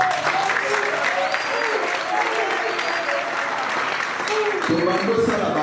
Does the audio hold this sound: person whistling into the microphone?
no